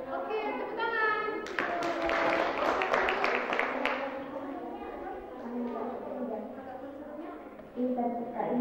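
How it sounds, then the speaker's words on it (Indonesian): Children clapping together at a Sunday school jamboree, a burst of quick claps rising over a voice and then giving way to talk and chatter. "Oke, tepuk tangan."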